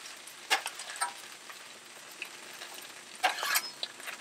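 Fried rice cooking on a flat Blackstone griddle, a steady low sizzle with a few sharper crackling bursts near the start and around the three-second mark, no talking.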